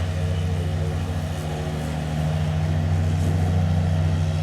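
A lawn mower engine drones steadily nearby, a low continuous rumble that holds without a break.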